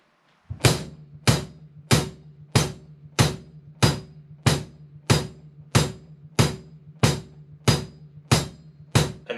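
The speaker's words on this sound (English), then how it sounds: "playing the kick on every beat and playing the hi-hat on every beat, just to make sure that they lock together" A drum kit strikes kick drum and hi-hat together on every beat, about fourteen even, evenly spaced hits ringing out alone at a steady moderate tempo.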